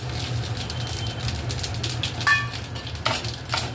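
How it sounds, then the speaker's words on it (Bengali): Cumin seeds crackle in hot oil as a tempering, with a faint, continuous hiss and occasional small pops over a low background hum. "জিরে ফোড়ন দিয়ে দিচ্ছি।"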